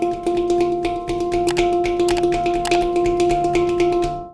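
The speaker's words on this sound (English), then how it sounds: "In the beginning, single stroke rolls usually sound like this." Slow, even single-stroke roll on a handpan, a steady stream of soft taps on one ringing note with a sustained metallic hum underneath, close and fairly loud, ending abruptly.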